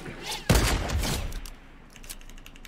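In the Fortnite video game, a burst of gunfire from an exchange of shots erupts suddenly and then thins into scattered, fainter pops, with faint background voices.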